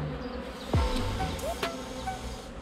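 Black honey bees hum around an open hive during a spring inspection, a low buzz with a few bees darting close past the microphone, along with brief handling noises.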